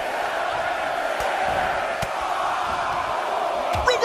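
A crowd in the WWE 2K23 wrestling game roars during a Royal Rumble match. The roar is a dense, continuous wall of cheering and shouting with a few sharper peaks.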